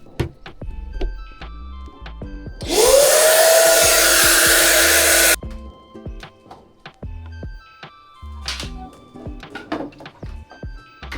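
A vacuum cleaner cleans computer parts during an upgrade, roaring in one loud, steady burst of about three seconds with a rising whine. Scattered knocks and handling sounds come before and after it.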